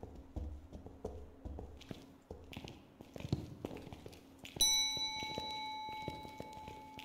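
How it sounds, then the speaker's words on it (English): A bell rings once in the video game Phasmophobia, its clear sustained tone sounding over earlier light taps and footsteps in a haunted building and slowly fading. "Who's ringing a bell?"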